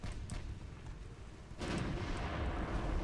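Twelve-inch battleship guns of an 1890s British fleet in Ultimate Admiral: Dreadnoughts, a low rolling boom followed by a heavier, sustained rumbling impact, muffled and distant-sounding.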